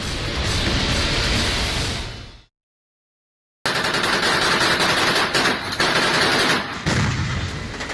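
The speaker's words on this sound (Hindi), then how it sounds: "गोलियों की आवाज से एक बार फिर थर्राया रुबिजने शहर" Sustained heavy gunfire in the war-zone city of Rubizhne, Ukraine: a dense, loud continuous roar of automatic fire that cuts out abruptly for about a second, then resumes just as intensely with crackling bursts to the end.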